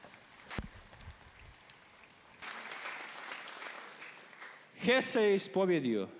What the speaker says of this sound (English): For him also an applause.